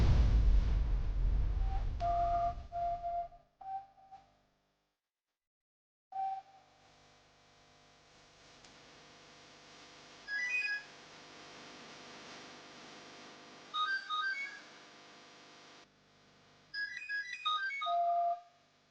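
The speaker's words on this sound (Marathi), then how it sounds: "आता मी नंबर डायल करतो आणि फोन स्पीकरवर ठेवतो." A phone on speaker after a number is dialed: a short burst of keypad tones, then a repeating ringback tone in separated bursts with quiet gaps between, faint and tinny.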